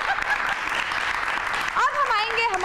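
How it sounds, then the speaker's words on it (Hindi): A studio audience at a Hindi variety show claps for a young participant, a brief burst of applause under which a voice and some music-like tones rise toward the end. "बहुत सारी तालियां इनके लिए।"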